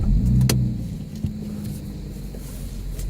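A V6 Mustang fitted with Borla S-type axle-back exhausts, heard as a steady low rumble with a brief louder burst near the start, then a continuous, even drone.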